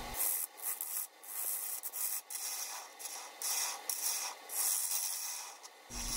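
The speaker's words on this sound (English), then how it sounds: "So obviously here I'm hollowing out the inside of the bowl, and I'm using mostly the bowl gouge here." Bowl gouge hollowing the inside of a wooden bowl turned from a rough log on a lathe, a steady close rasping scrape with brief dips as the tool shifts, no talk.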